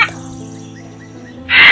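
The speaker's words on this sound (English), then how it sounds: "parrot" Harsh parrot squawks: a short raspy call at the very start and a louder, sustained screech at the end, with a quiet steady hum in between.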